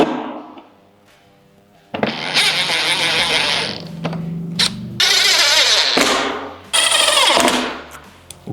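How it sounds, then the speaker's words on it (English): Screws are driven in on a Harley-Davidson Street Glide headlight, heard as loud, close mechanical whirring bursts, likely a power driver, starting and stopping several times with brief pauses between runs. "And put our 4 screws in on the other side."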